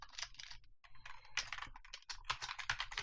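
Close, rapid keyboard typing as code is entered for a Unity mobile game, with dense bursts of key clicks and brief pauses, no talking.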